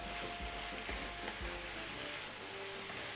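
Salt fish frying in a pan for a Jamaican dish, a steady close sizzle with a few soft stirring scrapes and knocks running through it.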